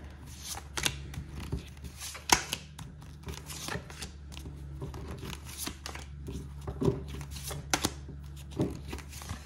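Playing cards being shuffled and slapped onto a table during a card reading, giving quick riffling bursts and several sharp, close snaps, with a steady low hum underneath and no talking.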